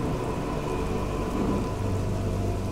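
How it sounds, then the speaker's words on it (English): Steady rain pours down in the video game Killer is Dead with low rumbles of thunder rolling underneath, a continuous wash of noise without any voices. "And it starts raining."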